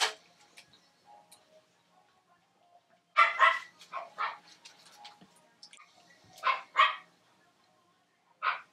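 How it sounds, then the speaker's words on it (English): Dogs bark in short scattered bursts at moderate distance, with quiet gaps between the barks and no talking. "the dogs have to start barking."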